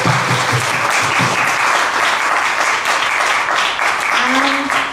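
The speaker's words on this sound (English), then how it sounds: "May I have a round of applause for them?" A festival marquee audience claps loudly and continuously in a dense, steady wash of applause, with a voice faintly heard near the end.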